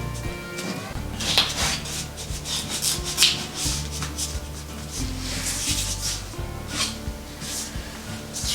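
Putty knife scraping model railway ties down to the plywood base during track work in a model railroad yard, a steady close rubbing and rasping texture with occasional sharper scrapes and no talk.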